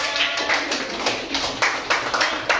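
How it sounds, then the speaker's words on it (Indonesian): Primary-school classmates clap their hands in a classroom, a short run of uneven, fairly close hand claps in loose bursts. "Tepuk tangan dong teman-teman."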